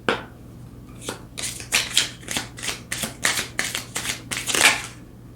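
Tarot cards shuffled by hand in a quick run of about a dozen crisp riffling bursts, close and fairly loud, with a low steady hum beneath and no talking.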